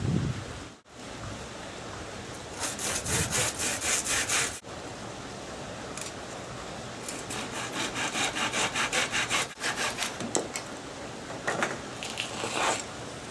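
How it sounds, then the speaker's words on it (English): A wooden branch is hand-sawn to make a bow drill spindle, producing close, rhythmic rasping strokes in several bursts separated by short pauses. "I'll cut it off right here to start with"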